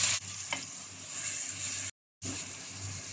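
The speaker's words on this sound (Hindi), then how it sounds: "अब हम इसमें डालेंगे एक बड़ी साइज़ की बारीक चॉप की हुई प्याज।" Finely chopped large onion sizzles in hot oil in a pan, a steady, close hiss with a brief clatter of stirring and a short dropout partway through.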